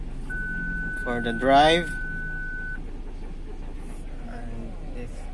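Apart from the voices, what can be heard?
Ford Everest parking sensor obstruction alarm beeping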